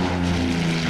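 A propeller bomber in the Order of Battle Winter War game drones steadily overhead, a loud, continuous engine hum with a low, even tone and no pauses.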